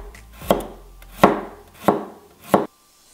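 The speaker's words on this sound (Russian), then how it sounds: "Также берем 3 зубчика чеснока и тонкими ломтиками нарезаем." A knife thinly slices garlic cloves on a board, four distinct, crisp cuts evenly spaced and close, with no talk.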